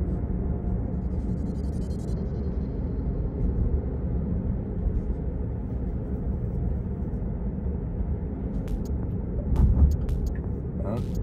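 A Tesla on FSD Beta V11.3.4 drives through Las Vegas streets and attempts a U-turn, giving a steady muffled cabin road rumble with a brief swell near the end, while a voice talks over it.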